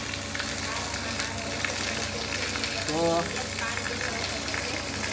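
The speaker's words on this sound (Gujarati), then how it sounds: "વરસાદ આવી ગયો છે ફૂલ." Heavy summer storm rain hisses in a continuous dense wash from start to finish, with a short burst of voice rising above it around the middle.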